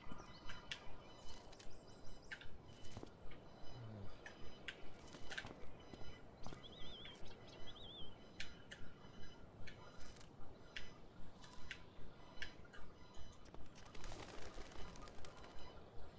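Bird cooing and calls in the video game Life Is Strange: Before The Storm, a soft repeated dove-like cooing in a steady pulsing rhythm over a continuous ambient game background.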